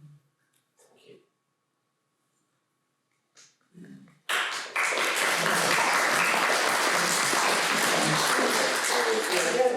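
Audience applause at a poetry reading bursts in after a few quiet breaths and soft sounds, then holds as steady, dense clapping filling the rest of the room.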